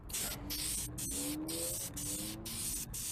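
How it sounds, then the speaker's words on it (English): Bursts of aerosol spray paint hissing close up onto a car headlight, several short passes with brief gaps between them, steady and fairly loud. "We're just putting spray paint directly over it."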